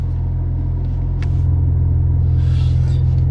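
A 2015 Maserati Ghibli S Q4 engine runs in sport mode, giving a loud, steady, deep rumble close by that swells slightly after about a second and then holds, with no voices.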